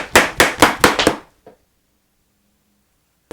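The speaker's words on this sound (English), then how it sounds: "So we're gonna whack this brush off now." A paintbrush is whacked against something to knock off the paint, making five sharp, loud, rapid thumps in quick succession. One softer knock follows, then near silence.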